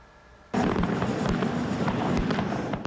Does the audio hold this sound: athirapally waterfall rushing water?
no